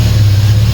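A box-body Chevy wagon engine, previously reluctant to start, runs loud and close with a steady low rumble and slight revving as fuel is added.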